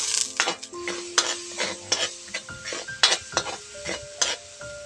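Onions stirred into coconut milk in a very hot pan, with a soft sizzle under repeated scraping and clinking of a metal utensil against the pan, close and moderately loud.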